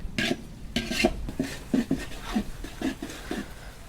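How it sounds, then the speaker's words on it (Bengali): Onions are frying in a pan in a village kitchen for chicken curry. A spatula scrapes the pan in a steady, rhythmic stroke about twice a second over a faint sizzle, with no voices. "পেঁয়াজগুলো ভাজা হচ্ছে।"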